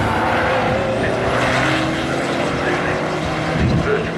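Race car engines drone loudly and steadily at Snetterton circuit during a club race, a continuous near roar with a rising whine as a car passes.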